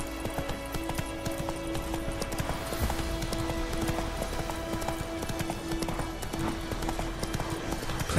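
Hooves of Roach, a horse in The Witcher 3, clip-clop at a gallop in a steady rhythm under sustained music and ambient game sound, with a brief whinny possible amid the mix.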